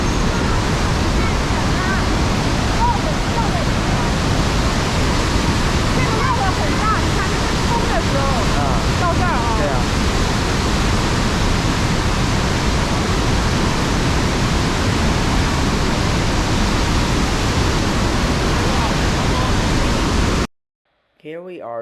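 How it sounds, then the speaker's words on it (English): Rushing river water roaring through Tiger Leaping Gorge in Yunnan, a loud, continuous broadband torrent close by with wind buffeting the microphone, cutting off abruptly near the end. "if you hear this water, it sounds like the roar of the tiger."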